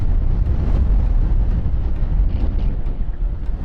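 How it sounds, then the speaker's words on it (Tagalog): Strong, cold wind at a high viewpoint in Malico, San Nicolas, Pangasinan roars and buffets the microphone continuously, a loud low rumble filling the whole stretch. "Mas ang lakas pa ng hangin."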